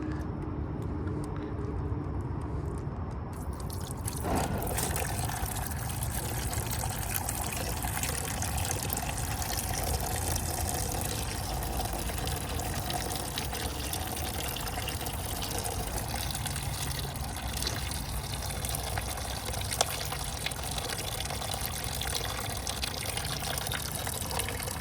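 Old coolant draining out of a Kawasaki ZX-14R motorcycle, a steady liquid trickle and splatter into a catch pan that starts with a rush and then runs on evenly for over twenty seconds, close by, with no talk.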